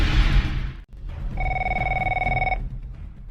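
A telephone rings with one long electronic trill after a brief rustle and thump, fairly close and clear, with faint background murmur.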